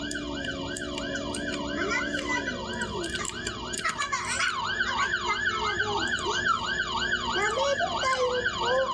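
A police siren wails in a rising and falling pattern, loud and continuous over street noise, with people talking briefly beneath it.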